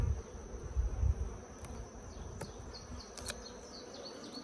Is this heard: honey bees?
yes